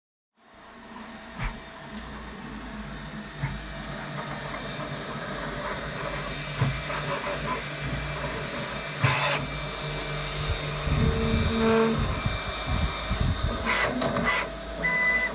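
A Snapmaker U1 3D printer prints an ocarina, giving a steady whirring hiss of fans and motors with shifting mechanical tones and occasional clicks, continuous and close throughout with no talking.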